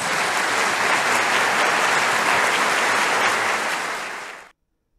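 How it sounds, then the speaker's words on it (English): Sustained applause from a talk show audience, a dense steady wash of clapping that holds at full strength for about four seconds before fading out quickly and ending in silence. "I want the audience to throw everything they have into this next round of applause"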